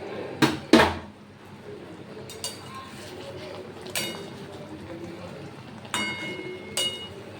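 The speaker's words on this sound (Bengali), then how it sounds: "এবার ঢাকাটা সরিয়ে দেখব।" A lid is lifted off a cooking pot of egg korma, giving two sharp metallic clanks near the start followed by fainter clinks later against a quiet kitchen background.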